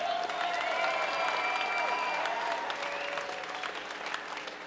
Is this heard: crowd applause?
yes